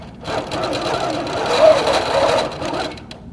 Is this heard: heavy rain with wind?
no